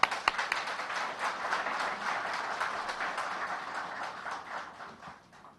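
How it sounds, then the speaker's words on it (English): An audience at a ceremony applauds, a fairly faint, steady patter of many hands clapping that carries on evenly and then fades out at the end. "this deserves an applause"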